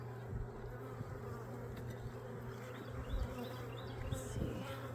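Honey bees buzz steadily at an open 8-frame hive, a dense continuous drone close by with small swells in loudness and no talking.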